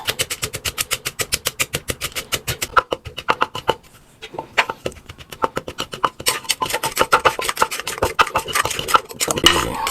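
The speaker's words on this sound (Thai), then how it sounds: "เราก็จะมาตำนะครับตำให้มันละเอียดนะครับตำให้ละเอียด" Crispy dried fish for chili paste is pounded in a mortar with steady, rhythmic close-up thuds, a brief slowdown midway, then quicker, denser strikes toward the end.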